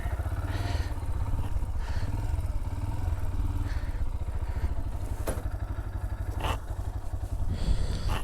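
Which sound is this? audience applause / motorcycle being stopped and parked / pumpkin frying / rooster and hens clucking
motorcycle being stopped and parked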